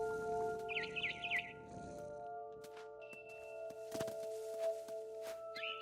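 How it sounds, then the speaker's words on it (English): A barn swallow in What Remains of Edith Finch gives a short burst of high chirps, fairly clear over a quiet ambient game backdrop with soft thuds and tones. "It was a barn swallow going back to her nest."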